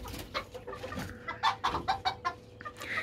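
Several hens fighting a rooster cluck and squawk in agitated bursts, with sharp scuffling calls rising and falling close by over a low background hum.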